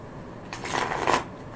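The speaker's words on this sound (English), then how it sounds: "So I'm going to be shuffling the cards." A deck of playing cards riffled in one quick burst of about a second, close and crisp, rising from and falling back into quiet room tone.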